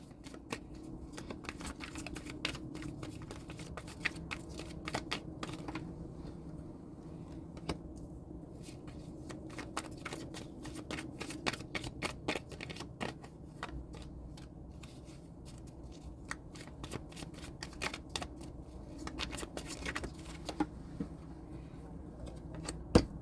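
Energy Oracle deck cards being handled and laid out on a table, with repeated soft clicks and snaps of card shuffling over a low background hum, steady for the whole stretch.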